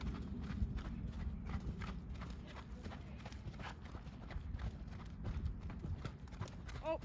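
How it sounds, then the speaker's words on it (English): Hooves thud and clop irregularly on soft ground as an off-the-track Thoroughbred show jumper bucks, with people talking nearby and a short whinny near the end. "Oh, the horse is bucking again."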